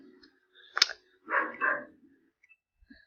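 A dog barks somewhere nearby, giving a sharp yip followed by two fuller, moderately loud barks, then a faint trailing sound in an otherwise quiet room with no talking.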